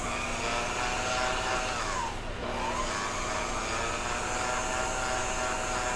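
An electric mixer whirs steadily while blending lemon cupcake batter with flour mixture, a continuous close hum with a brief dip in pitch midway and no talking.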